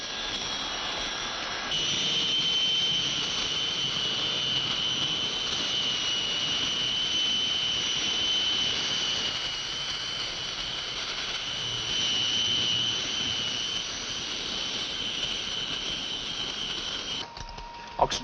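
Four jet engines of a large airliner roar steadily before takeoff, a loud continuous whine with a high tone that runs almost unbroken, then cuts off abruptly near the end.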